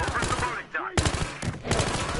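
Gunfire in the video game Battlefield: Hardline, dense bursts of shots and fast automatic fire cutting in loudly and repeatedly over busy game noise, with a short lull in the middle before the shooting resumes.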